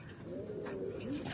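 A pet pigeon coos softly in a caged setting, a short low rolling call standing alone against faint background noise.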